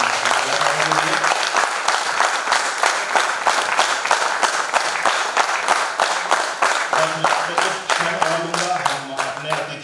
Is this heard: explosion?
no